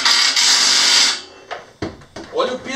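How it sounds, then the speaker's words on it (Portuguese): A power driver runs a self-drilling screw into an aluminum composite (ACM) panel with a loud, close, sustained whir that stops after about a second, followed by brief scraping and clunks as a voice speaks. "Agora estou colocando esse parafuso autoblocante"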